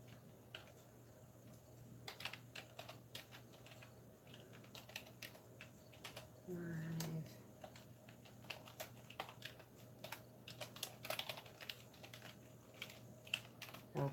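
Quiet computer keyboard typing, scattered light key clicks in short irregular bursts over a steady low hum, with a brief louder tonal sound partway through.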